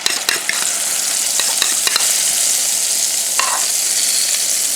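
Two eggs whisked with a splash of milk, a close, steady scraping and clinking stir in a bowl with a few sharper taps against the side, no talking.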